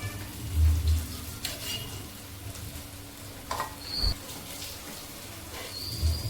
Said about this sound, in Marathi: एकदम स्लो गॅसवरती ही बाटी तळायची आहे